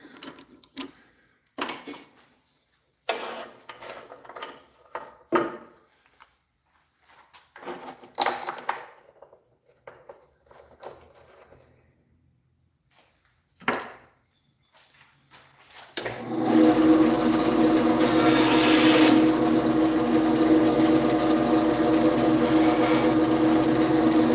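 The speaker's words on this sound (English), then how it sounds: "we'll do that on the bandsaw real quick" A bandsaw cuts off a wooden finial in a woodturning shop, starting after quieter handling clatter and then running as a loud, steady mechanical whine with a constant hum for several seconds.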